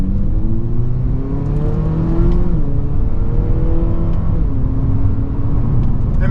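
A 2021 Acura ILX Premium engine revs hard in sport mode, its steady drone climbing in pitch. Crisp paddle-shifted gear changes make the tone drop and rise again, loud and close with no voices.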